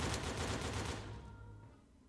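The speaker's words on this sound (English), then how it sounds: "This shotgun." A shotgun fires in the video game Quartermain and the Cult of Cthulhu: one loud, full blast with a rattling burst that fades over about a second, heard alone.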